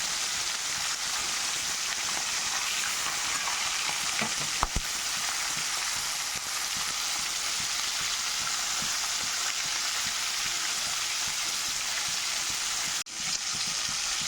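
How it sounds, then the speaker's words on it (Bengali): Hilsa fish pieces frying in a pan, a dense, steady, loud sizzle that holds without a break, with one sharp tap midway and a brief dip near the end, no talk. "ওই জন্য একটু মাছগুলো আমি ভাজা করে নেব।"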